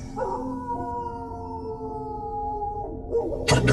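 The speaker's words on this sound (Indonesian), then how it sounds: "aku mendengar suara anjing melolong." A lone dog howls far off, a long, wavering, drawn-out tone that holds and slowly falls, faint against quiet background hiss, before a brief sharp noise cuts in at the end.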